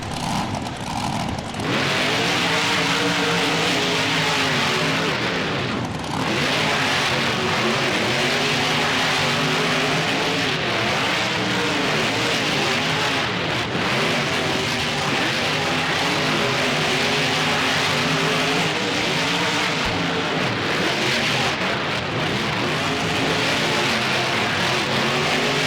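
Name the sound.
monster truck engines revving in BeamNG race, video game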